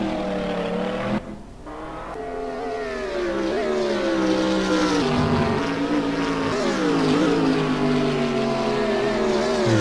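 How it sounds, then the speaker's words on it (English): A McLaren GT3 race car engine at Monza in a sim racing game, loud and close, revving through gear changes with a brief drop around a shift and rising, falling pitch sweeps throughout. "Daltec Racing's Rion van der Westhuizen in the gorgeous looking McLaren GT3"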